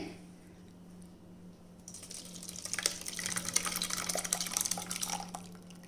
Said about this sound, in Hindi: अब यहाँ हमने एक छन्नी ले ली है, सीव, इसमें हम छान लेंगे।